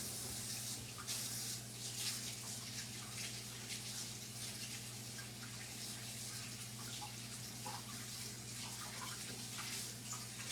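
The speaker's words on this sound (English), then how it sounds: "I'm going to go rinse my hands in like lukewarm water." Lukewarm tap water runs steadily into a sink while hands are rinsed under it after a lemon scrub, a constant close gushing wash with a low hum beneath and no talk.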